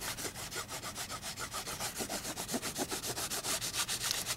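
Ink pad being rubbed over an embossed card made with a butterfly embossing folder: a fast, regular back-and-forth scuffing, about five strokes a second, close and soft, with no talking.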